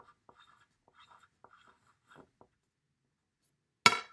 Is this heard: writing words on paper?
yes